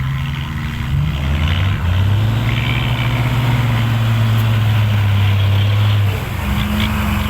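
A tractor engine labours to pull a stuck vehicle out of deep mud, a loud, low, steady drone heard close by that strains and holds for several seconds before easing off, with no talking.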